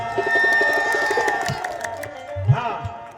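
An audience at a qawwali gathering breaks into applause and cheering, with loud claps, shouts and whoops rising together close by amid voices.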